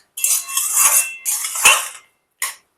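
Marinated taro being stirred in a cooking pan, a few bursts of spoon scraping and clinking against metal, close and loud, separated by short silences.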